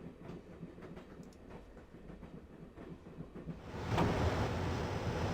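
Inside the Broken Sword: The Shadow of the Templars video game, a moving train rumbles with a rhythmic clickety-clack, steady at first and then swelling into a louder, rushing roar near the end, with no talk.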